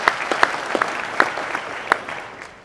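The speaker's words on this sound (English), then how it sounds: "You'll know why you're clapping" An audience at a seed-saving talk applauds in a brief, scattered round of clapping, with a few sharp individual claps standing out before it tapers off.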